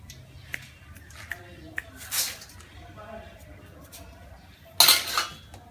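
Crispy fried banana chips handled in a kitchen, with scattered light crinkles and clinks, a rustling burst midway and a louder crunchy clatter near the end, while a person talks nearby.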